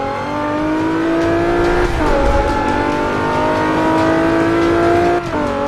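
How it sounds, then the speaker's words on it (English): A V6 engine from a Nissan 370Z, swapped into a rear-wheel-drive Abarth 500 in the racing game Forza 5, revs loudly and steadily, its pitch dipping briefly at a gear change before climbing again. "the V6 engine sounds amazing, especially in this little car"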